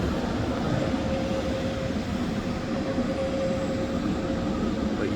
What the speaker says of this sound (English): this is another spectacular train ride